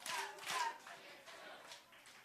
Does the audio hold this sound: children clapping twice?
yes